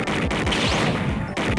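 Rapid bursts of gunfire from the video game Snatcher, a dense volley of repeated shots firing close and loud for over a second, with a brief break before the shooting resumes.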